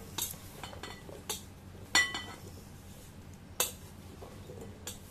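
Jackfruit pieces for a traditional mango-and-jackfruit pickle drop into a bowl, making about five sharp, close clinks and knocks spaced a second or so apart over a quiet kitchen background.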